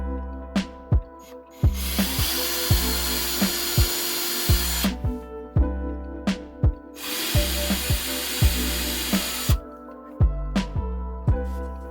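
A power drill enlarges a hole in a front-end part of an Acura TL with a manual transmission. It whines in two long, close bursts, with sharp clicks and taps around them.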